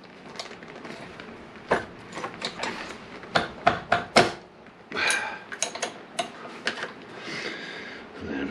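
Sharp metallic clicks and knocks from a spanner cracking loose a brake line banjo bolt on a Honda VFR800 VTEC motorcycle, irregular taps and ratchet-like ticks close up, alone without talk.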